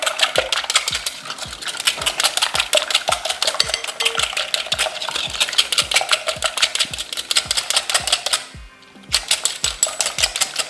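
Eggs are beaten in a bowl for zucchini waffle batter with a whisk or fork, giving a fast, steady train of sharp clinks against the bowl. There is a brief pause near the end, then the clinking resumes, close and fairly loud.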